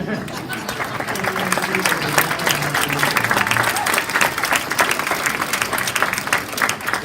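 A graduation ceremony audience applauds the graduates, with sustained, dense clapping from a large crowd that stays steady and fairly loud throughout.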